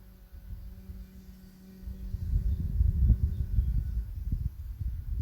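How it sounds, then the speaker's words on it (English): Low, steady humming of bee breath (Brahmari) done with the lips closed during a vinyasa flow session, a soft nasal drone that swells in loudness partway through and holds for several seconds. "So we are humming with the lips closed."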